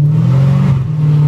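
A supercharged SRT car held stationary and revving hard before a burnout, a loud, steady, close engine drone with a deep, constant pitch and no talking.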